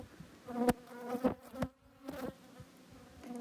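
Honey bees buzz around an open hive, a soft close drone with several louder individual passes swelling and fading over a few seconds.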